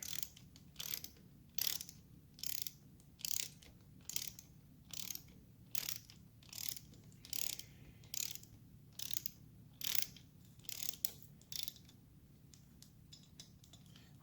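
A hand ratchet clicks in steady repeated bursts while snugging bolts on the top end of a 1975 Norton Commando Mk3 engine during restoration, close and fairly quiet in a calm workshop.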